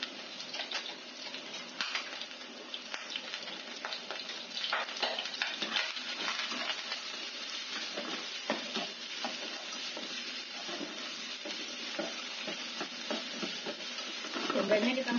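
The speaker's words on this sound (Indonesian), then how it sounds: "Saya masukkan jahenya, bawang putih, saat ini sampai matang." Ginger and garlic fry in a pan, giving a steady sizzle with frequent stirring scrapes and clicks throughout, at moderate level and with no talking.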